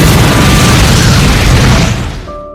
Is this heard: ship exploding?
yes